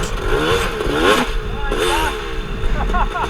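A trail bike engine labours up a hill on a 2017 Ardmore/Brookby trail ride, its revs rising and falling in strained surges, close and loud throughout.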